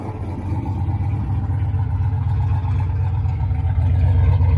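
A turbocharged Ford Mustang Fox-body notchback with an F-cam idles nearby. The exhaust gives a loud, steady, deep rumble that rises slightly toward the end, and no one speaks.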